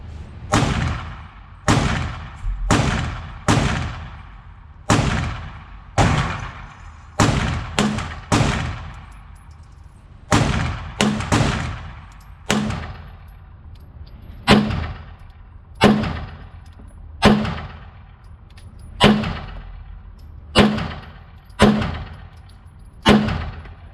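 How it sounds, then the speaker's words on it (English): Pistols, a Phoenix Drake and an Atlas Athena, fire at targets in a steady series of about twenty loud, sharp shots spaced roughly a second apart, with no talking. "We're going to be shooting at the top left of the targets, the diamonds, and then with the Drake, we're going to be shooting to the top right diamond."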